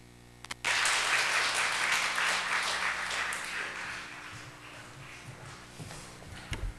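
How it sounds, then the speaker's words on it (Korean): An audience at a Korean church youth conference claps loudly after a lecture, a dense burst of applause that starts suddenly and tapers slowly over several seconds. "한 번 더 큰 박수 하겠습니다"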